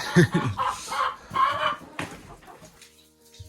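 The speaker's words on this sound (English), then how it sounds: "I've got chickens wanting to go outside." Chickens clucking close by, a string of short squawky calls with murmuring tones, tapering off toward quiet near the end.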